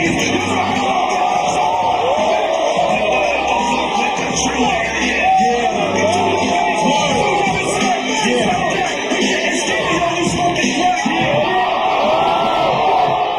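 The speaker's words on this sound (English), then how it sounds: "people are screaming in the crowd" A crowd at a freestyle rap show screams, whoops and yells continuously, a loud dense roar of many voices with shouting mixed in throughout.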